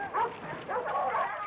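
Search dogs in a 1972 horror film scene barking and yipping in short bursts, two or three clustered calls with whimpering tones, moderately close and without speech over them.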